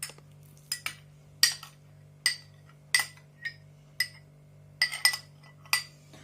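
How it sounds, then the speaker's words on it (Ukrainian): Stuffing being mixed thoroughly with mayonnaise in a bowl, heard as a series of about a dozen sharp spoon clinks against the bowl at an uneven pace, close and clear over quiet background. "Усе ретельно перемішую."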